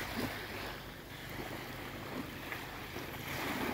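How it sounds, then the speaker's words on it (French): Soft, steady wash of gentle sea water with wind rustling across the microphone, a low continuous outdoor murmur without distinct breaking waves. "Et la mer est calme. Les vagues sont très petites."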